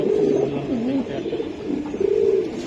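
Khaki giribaz flying pigeons coo in a close, steady series of low rolling calls, a pair of birds heard clearly with no talk over them.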